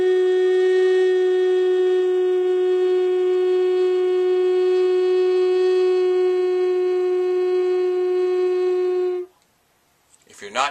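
A Native American flute plays a single sustained low bass note, steady and clear for about nine seconds before stopping abruptly, followed by a brief breath noise.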